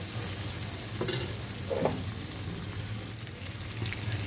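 Tomatoes for fenugreek seed bhaji cook in a pan, giving a steady close sizzle and hiss with a few brief stirring scrapes and no talking.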